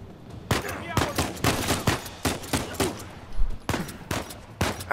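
Repeated gunfire from the video game Uncharted 4, a steady run of sharp shots in irregular bursts across the whole stretch, loud and close, with faint speech mixed in.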